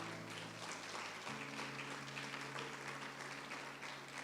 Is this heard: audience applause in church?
yes